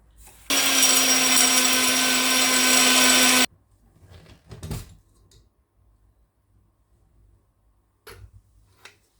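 A home grain mill grinding dried turmeric into powder whines loudly for about three seconds, then shuts off abruptly, leaving quiet with a few faint knocks and handling sounds.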